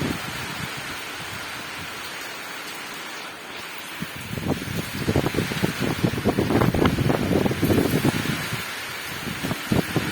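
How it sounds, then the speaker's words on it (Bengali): Heavy rain driven by strong wind, a steady dense roar of falling water with gusty whooshing that swells louder in the second half, close and continuous with no voices. "যেমন হাওয়া দিচ্ছে তেমন বৃষ্টি হচ্ছে।"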